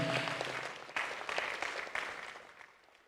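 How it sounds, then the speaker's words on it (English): An audience claps at an award ceremony, a fairly faint burst of applause that thins out and fades over a few seconds. "Let's clap for them."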